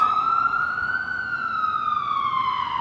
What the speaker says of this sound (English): As we have an ambulance